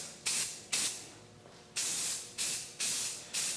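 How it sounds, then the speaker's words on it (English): Self-etching primer sprayed from an aerosol can onto motorcycle front fork tubes, heard as six short bursts of close, loud hissing with brief pauses between them. "I'm just going to do one coat of the self-etching primer, just enough to cover everything"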